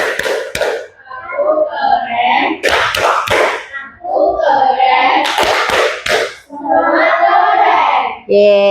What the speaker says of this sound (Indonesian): Kita kasih tepuk keren.